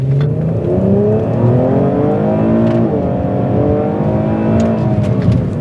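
A Holden ZB Commodore RS-V accelerates on the road, its engine note rising in repeated sweeps as it climbs through the gears, heard steadily from inside the car with no talk.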